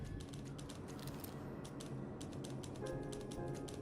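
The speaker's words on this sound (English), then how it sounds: "Or is that just someone on a typewriter over there?" Typewriter typing in the video game Dishonored 2, a rapid run of crisp mechanical key strikes in an irregular rhythm over a low ambient hum, fairly faint and somewhat distant.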